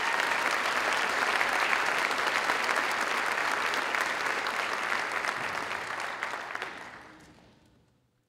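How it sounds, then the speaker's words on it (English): A graduation commencement crowd at the University of Minnesota Rochester applauds university staff, a broad, even wash of clapping that holds for about six seconds, then fades away to silence. "So could I ask you please just a quick round of applause for them"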